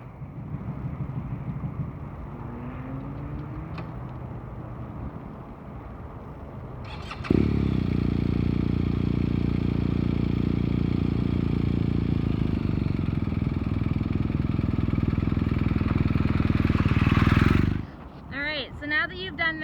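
A motorcycle engine catches and settles into a steady, loud running drone while the bike is walked alongside, cutting off near the end; a person talks over it throughout.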